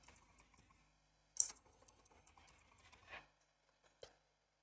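Quiet, close typing on a computer keyboard while searching in Windows: scattered soft key taps with a few sharper clicks, fading to near silence at the end.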